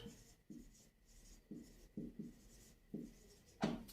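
Pen or chalk writing on paper or a board during a math lesson, a series of short scratchy strokes in irregular rhythm, close and quiet, ending with a sharper tap.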